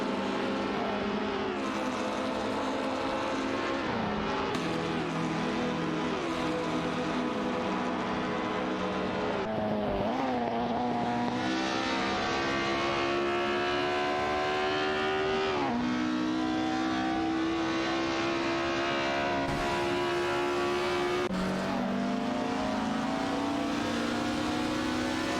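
Race cars in an AI racing video game, engines whining and climbing through gear shifts, several cars layered together at a loud, steady level with repeated rising and dropping pitch.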